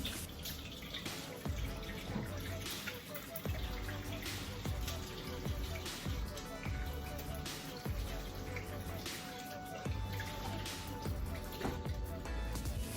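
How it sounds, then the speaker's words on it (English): A kitchen faucet runs steadily while hands are washed beneath it, giving a continuous splashing hiss with small irregular bursts as the hands move through the stream. Someone speaks now and then over the water. "let me wash my hands"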